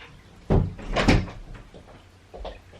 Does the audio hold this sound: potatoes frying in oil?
no